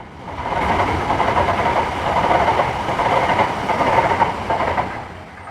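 Gautrain commuter train running through Johannesburg, a steady loud rumble of wheels on rail with faint clickety-clack, sustained and close throughout with no voices.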